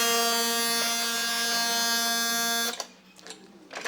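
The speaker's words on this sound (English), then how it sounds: "you'll hear the buzzing sound" A steady, loud electric buzz with a harsh, rich tone from the electromagnetic buzzer of a 1955 Electric Robot "& Son" toy runs for nearly three seconds, then cuts off abruptly, leaving faint rattles and taps.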